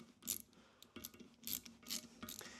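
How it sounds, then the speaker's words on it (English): A small ratchet tightens the valve stem nut on a tire rim from a 1952 Chevy, giving several quick clicking bursts close by with brief pauses between strokes. "get a small ratchet so you can't over crank it, and just get it nice and tight"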